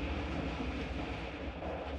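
A locomotive-hauled train runs steadily on rails, a continuous loud rumble with rolling low-end noise and no break throughout, with no voices present.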